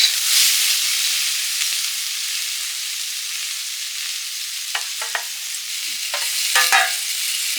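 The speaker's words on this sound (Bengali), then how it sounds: "একটু আঁচ লাগলেই নিয়ে নিতে হবে, খুব বেশি সময় লাগে না সজনে ডাঁটা ভাজতে" Bengali-style drumstick (sajna) stalks fry in a pan with a steady, loud sizzle and hiss, while a utensil clinks and scrapes against the pan in short bursts toward the end.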